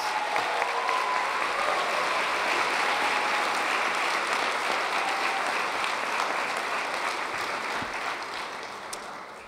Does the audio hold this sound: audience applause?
yes